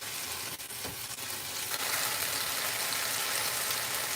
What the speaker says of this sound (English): It's a vegetarian teriyaki stir fry